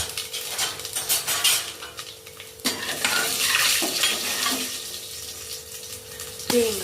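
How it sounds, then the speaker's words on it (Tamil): Fennel seeds sauté in oil in a pan for a chana masala, with crackling sizzle and repeated scraping stirs and clinks of a utensil against the metal pan, close up. "போட்டு அப்படியே நல்லா வதக்குங்க"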